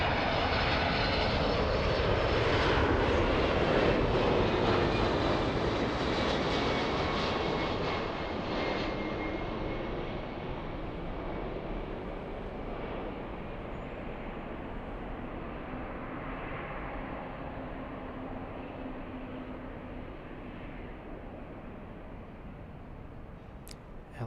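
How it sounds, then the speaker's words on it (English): A Japanese Boeing 777 rolling down the runway at LAX for takeoff, a broad, steady jet engine roar that swells early and then slowly fades as the aircraft moves away, with no talk. "let's go for the Japanese 777 already on the roll"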